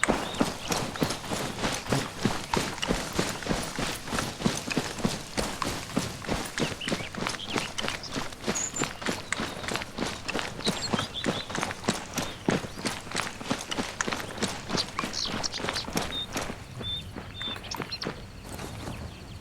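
Horse hooves clip-clopping in the ArmA 3 military game, a brisk, steady run of close hoof strikes on hard ground that keeps going for many seconds and then thins toward the end.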